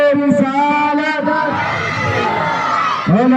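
At a religious gathering in a mosque, one voice leads a slogan call, then a large crowd answers with a loud, sustained collective shout that lasts over a second before the leader's voice returns.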